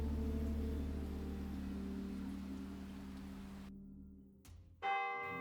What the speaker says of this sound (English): Mildred Rutland awoke with a start at the sound of the bells.